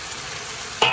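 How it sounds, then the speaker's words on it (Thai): Crab pieces drop into a hot wok for stir-fried garlic crab, bursting into a loud sizzle after a low steady hiss of cooking. "ต่อไปนะคะเราใส่ปูค่ะนี่เราใส่ปูลงไปเลยค่ะ"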